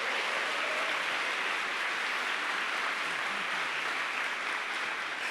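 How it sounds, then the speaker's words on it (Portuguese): Steady, dense applause from a church congregation at a Portuguese-language Catholic talk, a continuous broad wash of clapping at even level with no speech over it. "Então aplaude."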